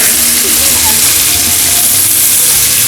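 Steady broadband sizzling and hissing of sliced fish frying in hot oil on a coal pot, loud and close, with faint voices murmuring underneath.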